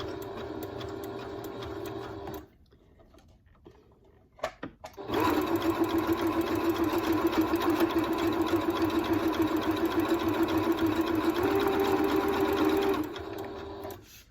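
A sewing machine runs in a steady mechanical hum while stitching a fabric strip for a fabric bowl. It pauses briefly with a few clicks, then sews again in a long, loud, even run before stopping.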